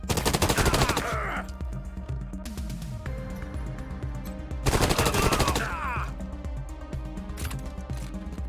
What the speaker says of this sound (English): what about with the SMG? Oh, that is the SMG.